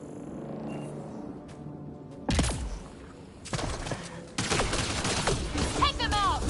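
Gunfire breaks out in the Mass Effect Andromeda video game as loud bursts of shots and rapid volleys cut in after a quiet stretch, with voices shouting under the fighting.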